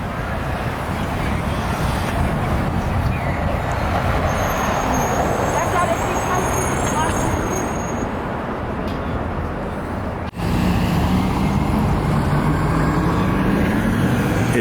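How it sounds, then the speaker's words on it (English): Light traffic on Broadway in New York, near 59th Street and Columbus Circle, heard as a steady wash of road noise and passing vehicles with no talk. "Very, very limited traffic."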